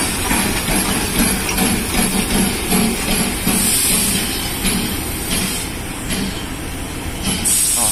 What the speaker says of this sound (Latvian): Lokomotīvi sauc Ferdinands. Un tā ir no Igaunijas.